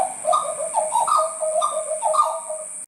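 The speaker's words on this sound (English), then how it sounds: "But it's the butcher bird." A loud, clear series of melodic whistled butcherbird calls, fluting notes rising and falling in repeated phrases with no talking.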